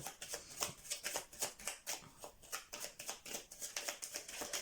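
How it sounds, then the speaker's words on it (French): Tarot cards shuffled by hand during a card reading, a quick run of soft riffling, papery flutters repeating in a steady rhythm, close and fairly quiet with no voices. "Allez, une arcane majeure pour compléter ce tirage."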